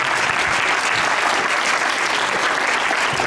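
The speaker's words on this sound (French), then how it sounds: "Je vous propose d'applaudir." Audience applause at a round-table discussion on music cultures, dense steady clapping from a crowd filling the whole moment at an even loudness, with no voices.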